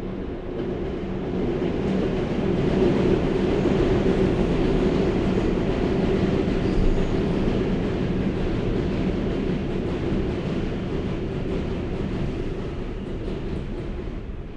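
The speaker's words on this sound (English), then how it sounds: "Whenever I start these videos, the J train comes by" A New York J subway train rumbles past in a long, continuous roar of wheels and cars on track, loud and steady throughout with a constant rattling texture.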